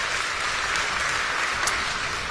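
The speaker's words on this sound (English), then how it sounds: "Please give him a round of applause for his great service." An audience at a 2016 Tim Kaine campaign rally in Bethlehem, Pennsylvania, gives sustained applause, a dense, even wash of clapping that holds steady throughout.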